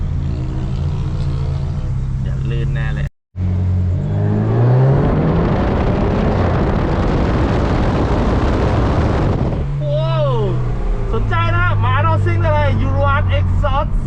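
A BMW F32 fitted with a Euro Arts aftermarket exhaust idles with a low rumble, then bursts into a loud, sustained roaring rev for several seconds before settling back, with someone talking over the quieter stretches.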